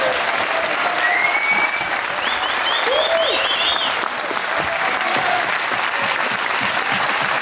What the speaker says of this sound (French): je souhaiterais un déluge, un tonnerre d'applaudissements pour Mike Borowski